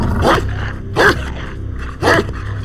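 A dog on a cliff gives three loud, close, separate barks roughly a second apart, set over a steady low background rumble.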